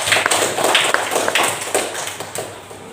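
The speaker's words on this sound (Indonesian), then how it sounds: "Tepuk tangan buat Mbak Ana." A school class claps for a pupil named Mbak Ana, a short burst of scattered hand claps close by, uneven and fading over a few seconds, with no speech over it.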